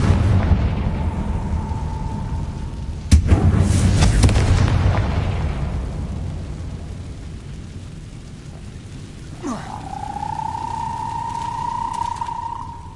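A Confringo blasting spell goes off in Hogwarts Legacy with a sudden sharp boom about a third of the way in, over a rumbling low ambience, followed later by a rising magical tone.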